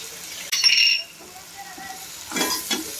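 Spices being stirred into frying chicken pulao with tomatoes in a pan, a spoon scraping through the mixture in two short bursts over a soft background sizzle.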